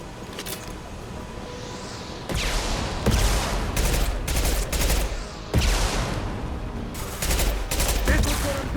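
Rapid gunfire bursts in Mass Effect 2, repeated loud volleys of shots in clusters with brief pauses, close and punchy, with faint voices now and then.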